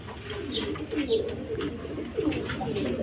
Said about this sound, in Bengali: এখানে এক পেয়ার কবুতর আছে দেখেন